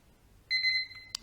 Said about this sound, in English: There's your timer.